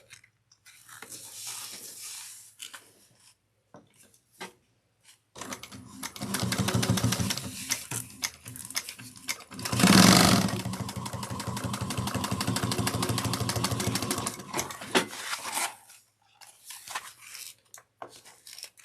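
A sewing machine runs top stitching along rolled fabric edges in several bursts: a few short starts, then a long steady whirring run with brief pauses between stretches.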